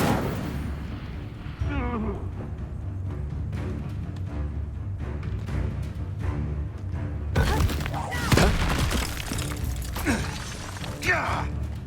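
An Incendio fire spell cast in a wizarding video game, where a low rumbling battle bed gives way to a sudden bright whooshing burst and crackling impacts late on, with voices heard alongside.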